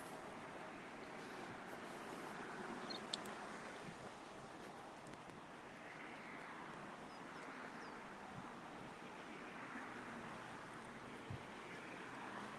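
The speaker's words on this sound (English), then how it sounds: "gentle water lapping against the shoreline." Soft, steady wash of lake water lapping at the shoreline on an early morning, a continuous gentle murmur mixed with light wind noise, with no voices.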